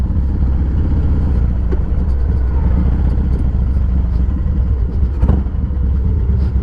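A motorcycle on a freeway test ride gives a continuous loud engine drone mixed with wind roar, steady throughout with small shifts in pitch.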